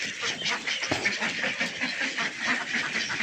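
Male ducks on a farm quacking in a steady, dense chorus of overlapping calls, fairly close and continuous throughout.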